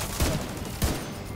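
A heavy-recoil weapon fires in The Division 2, two punchy shots about half a second apart over a dense, steady background of battle noise, with no one talking.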